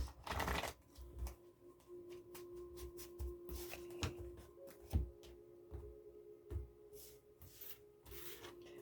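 Tarot cards being shuffled by hand in quiet, close bursts of riffling and papery rubbing with small taps between them, soft and unaccompanied by speech.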